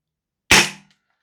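One sharp, loud shot from a Strike Industries MWS PDW airsoft rifle cracks close by, a single snappy burst that decays quickly into silence.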